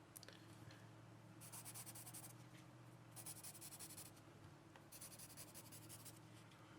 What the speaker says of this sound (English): this is the USA Gold pencil noise